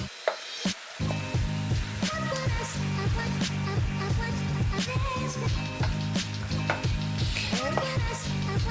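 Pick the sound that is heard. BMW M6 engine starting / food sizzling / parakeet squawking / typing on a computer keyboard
food sizzling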